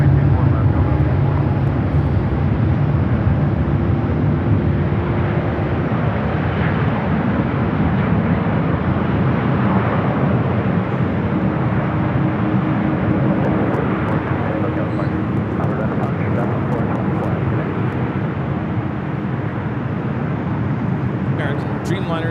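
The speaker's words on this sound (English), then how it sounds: "American Dreamliner touching down on the south side" An American Airlines Boeing 787 Dreamliner touching down on the south side at LAX, a steady loud roar of jet engines and rushing air holding throughout with no talk.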